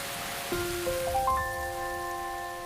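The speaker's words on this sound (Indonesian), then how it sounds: "Perjalanan pulang mereka diwarnai dengan hujan deras yang mendadak turun" Heavy rain in the film Let's Fight Ghost, a steady wash of falling water hissing throughout while soft sustained musical tones rise one after another over it.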